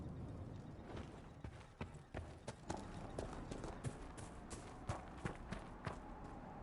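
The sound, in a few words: horse hooves clip-clopping in video game Dragon Age Inquisition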